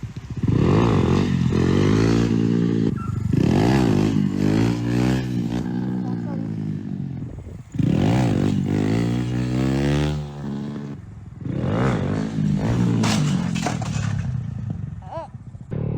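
A Honda Grom motorcycle doing wheelies, its small engine revving hard and rising in repeated surges, with bursts of acceleration separated by brief drops in throttle, loud and close.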